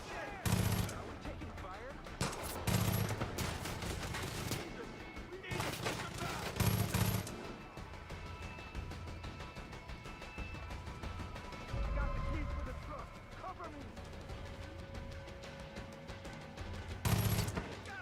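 Loud bursts of automatic gunfire from the video game Far Cry 5 come in several rapid volleys, separated by quieter gameplay sounds, with someone talking at times.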